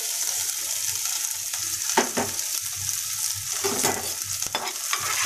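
Chopped onions and cumin seeds frying in a hot kadai give a steady sizzle, with a spoon stirring and scraping through the pan at irregular moments. No one speaks.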